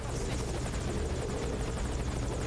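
A helicopter in Metal Gear Solid 5: Ground Zeroes drones steadily with a loud, continuous rotor thrum that holds even for the whole stretch, with no voices over it.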